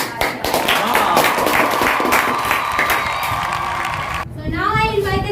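Audience applause with some cheering and shouting at a school Teacher's Day celebration, a dense wash of clapping that continues for several seconds, then cuts off abruptly as a voice speaks over a sound system.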